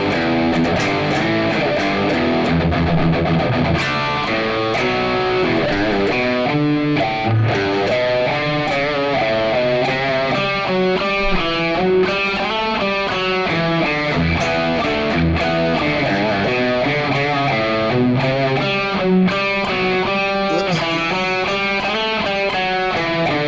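Distorted electric guitar solo from a heavy metal song, fast runs of notes over the driving band, loud and continuous throughout.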